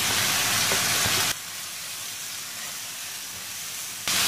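Capsicum, corn and mixed vegetables frying over a high flame, a loud hiss of sizzling that drops sharply quieter for a few seconds before surging back.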